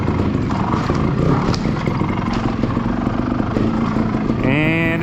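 A Sherco trials motorcycle burbles close and loud, then its engine revs sharply upward in a quick rising whine as the clutch is popped near the end.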